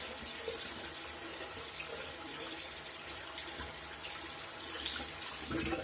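Tap water running steadily onto a shaving brush at a sink, a continuous close splashing hiss that swells slightly toward the end.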